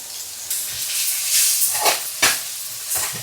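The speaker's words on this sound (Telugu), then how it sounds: "క్యాబేజీ ముక్కలు, టమాటా ముక్కలు, క్యారెట్ ముక్కలు అవన్నీ వేసుకొని మంచిగా కలుపుకోవాలి" Shredded cabbage with tomato and carrot pieces being stirred in a hot frying pan for spring roll filling, giving a steady close sizzling hiss with a few sharper scraping stir strokes and no talking.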